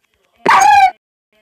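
A small dog gives a single short, high-pitched bark or yelp close by, lasting about half a second and then falling silent.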